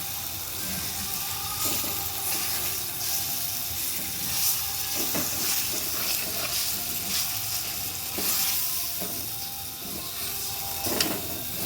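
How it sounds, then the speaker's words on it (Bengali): Lentil mixture cooking in a pan for Bengali dhokar dalna, sizzling steadily while a spoon scrapes and stirs it in repeated strokes, close and continuous. "একটু নেড়ে চেড়ে নিচ্ছি"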